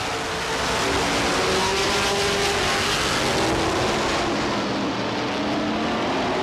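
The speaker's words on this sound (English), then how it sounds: "The motors come alive. Off turn number 4, racing once again down the front straightaway." Race cars roaring around a speedway oval, a dense, continuous wall of engine noise from several cars passing at full throttle, loud and sustained with no voices.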